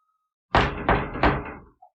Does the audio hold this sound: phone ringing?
no